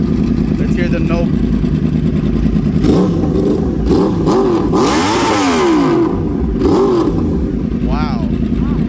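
A 2014 Yamaha R1 sport motorcycle with a Toce aftermarket exhaust revs hard up close, its very loud engine note climbing and falling through several sharp throttle blips over a steady idle.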